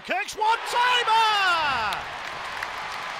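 Crowd cheer rising after a goal at an ice hockey game as the Steelers take the lead, a broad roar swelling under excited commentary and then holding steady.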